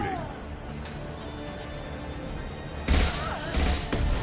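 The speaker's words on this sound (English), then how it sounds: "Shooting." Gunfire from the video game Mass Effect 2: a quiet stretch of low rumble, then sharp bursts of shots crack in near the end, loud and close, with some faint voice underneath.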